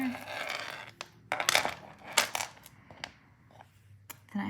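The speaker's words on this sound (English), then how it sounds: "Then I'm gonna cut off my excess wire." Excess wire trimmed with cutters while making a charm bracelet, a few sharp, close metallic snips and clicks spread over a few seconds with quiet pauses between them, no talking.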